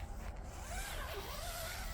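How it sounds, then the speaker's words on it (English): A zipper on the D-door of a CROOSSE two-person backpacking tent runs smoothly along its track in a steady, quiet rasp. "The zippers are very smooth."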